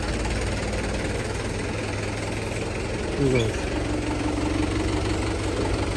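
A steady low engine rumble idles continuously throughout, with a brief louder mechanical swell midway and faint voices in the background.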